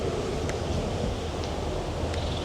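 Strong wind blows outdoors at an explosion site, a loud continuous rumble of low buffeting gusts battering the microphone throughout, with no voices.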